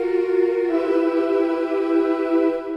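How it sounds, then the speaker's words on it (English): Sustained choral tone from a boys choir, a steady harmonic chord held alone for nearly three seconds at even, moderate loudness with no talking. "We've got boys choir."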